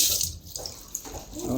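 Water runs from a kitchen tap in a holiday villa at Sematan, a steady hiss and splash at moderate level with faint shifts in the flow.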